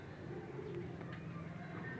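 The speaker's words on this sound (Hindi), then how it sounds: "ये काले पल्लों वाला हमारा कबूतर है जी" Soft cooing from Dogar breed high flyer pigeons murmurs steadily in the background, low and continuous, with faint rustling nearby and no clear voices.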